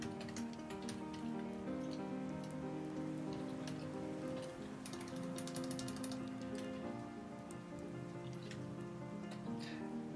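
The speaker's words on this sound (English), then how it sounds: "we're listening to some classical music with some rain sounds over it" Recorded rain sounds patter steadily over classical music, dense raindrop ticks layered on sustained orchestral tones, continuous and moderately quiet for about ten seconds with no speech.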